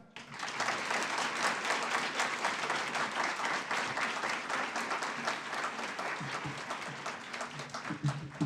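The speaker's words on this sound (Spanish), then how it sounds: "el aplauso que damos aquí necesitamos darlo bien fuerte para que se escuche en todas las aulas" Sustained audience applause at a conference on inclusive and social education, dense steady clapping from a large crowd lasting several seconds before fading slightly at the end.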